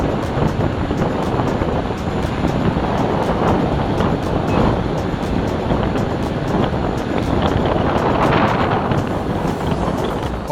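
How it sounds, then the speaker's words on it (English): Wind roars across the microphone while someone rides a High Speed MSP electric unicycle on a very windy day, a loud, continuous buffeting rush with gusty swells and no voices. "this is a very windy day"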